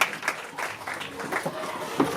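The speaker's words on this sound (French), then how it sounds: "Merci beaucoup, on applaudit pour eux." Guests at a customary wedding in Brazzaville applaud in scattered bursts of moderate clapping, with voices murmuring underneath.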